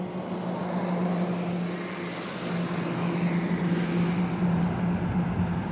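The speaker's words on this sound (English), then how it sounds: "there's the 777 taxiing past now" A Boeing 777 airliner taxiing past at Auckland Airport: steady broadband jet engine roar with a low tonal hum, moderately distant and continuous, swelling slightly as it passes, with no talk.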